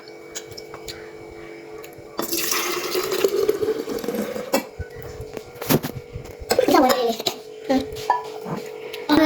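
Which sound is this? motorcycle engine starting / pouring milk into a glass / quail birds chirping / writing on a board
pouring milk into a glass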